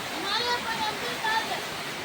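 Rain falls in a dense, even wash of hissing water with no break across the moment.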